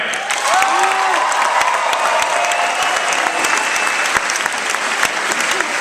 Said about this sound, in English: This guy's going to be incredible. Let's hear it for Tony Kim.